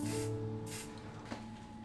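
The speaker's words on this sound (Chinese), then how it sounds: "用喷漆将叶脉喷成渐变的颜色" Spray paint hisses in short bursts as it colors dried leaf veins a gradient shade for a costume piece, quiet and close with brief pauses between sprays.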